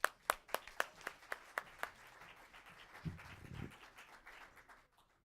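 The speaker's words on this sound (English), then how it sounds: "All right, a round of applause, please." A small audience claps at a poetry and music event, a few sharp separate claps at first and then a brief softer patter that fades to silence.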